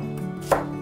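Kitchen knife chopping an onion: a single crisp chop over a steady background hum.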